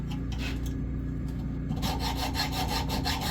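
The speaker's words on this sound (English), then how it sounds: "I think I'm going to use a saw" Hand saw cutting through a part on an engine being prepped for sale in a parts shed, giving steady, continuous back-and-forth rasping strokes that grow louder and denser partway through, with no talking.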